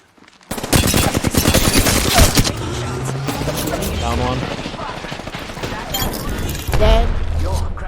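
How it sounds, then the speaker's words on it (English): Rapid automatic gunfire in the video game Apex Legends, a loud close burst of rattling shots that starts abruptly and keeps going amid further shooting and impacts, with a player talking over the fight. "They start shooting us from behind."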